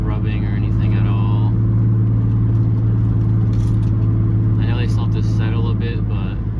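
A BMW E36 grip car fitted with new subframe reinforcements and Swift springs drives along the road, its steady engine and road rumble filling the cabin while someone talks over it.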